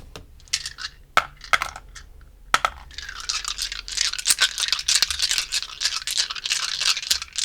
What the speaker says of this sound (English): Okay, we're rolling 6 dice for you today.